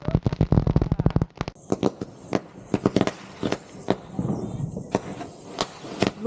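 A desi bomb firecracker set off for Diwali in an Odisha village: a rapid burst of sharp, close crackling pops, then scattered loud bangs, with a few voices around.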